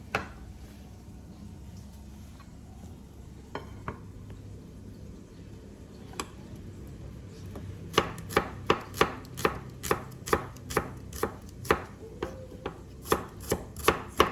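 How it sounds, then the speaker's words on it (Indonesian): Shallots being chopped with a knife on a board for a sambal of chicken liver and gizzard, starting with a few scattered taps and building into a steady run of sharp, close chops. "Sekarang saya mau potong bawang merahnya dulu."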